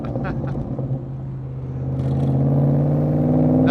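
From behind a 1965 Shelby Cobra Backdraft RT4, the engine rumbles with a clattering exhaust burble and grows steadily louder and higher as it revs.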